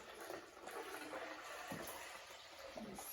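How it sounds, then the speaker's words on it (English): Water poured from a carafe into the reservoir of a drip coffee maker, filled to the 12-cup mark, making a steady, fairly quiet trickling splash throughout. "you want to fill the water pretty much up to the very top"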